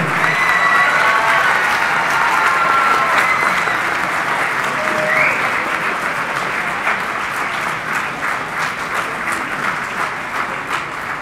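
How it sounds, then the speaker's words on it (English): Steady audience applause fills a school band night, broad and sustained from start to finish, with scattered clapping and crowd noise but no clear voices. "How about another round of applause for the 6th grade, the 7th grade, the 8th grade,"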